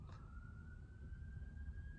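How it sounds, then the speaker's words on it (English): Police siren passing outside, heard as a faint, steady wailing tone with a slight upward drift, distant and muffled beneath low rumbling background noise. "sorry, those sirens threw me off"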